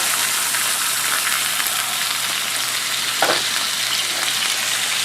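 Burger patty with potatoes and onions frying on a griddle, a steady loud sizzle throughout with a brief scraping stir near the end as the patty is lifted.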